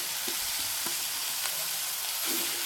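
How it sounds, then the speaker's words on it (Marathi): Grated beetroot fries in hot ghee for beetroot halwa, giving a dense, continuous sizzle with occasional soft stirring scrapes, close and steady throughout. "यामध्ये आपण वीट सोडून टाकणार आहोत हे पण छान असं वीट आपण भाजून घेणार आहोत"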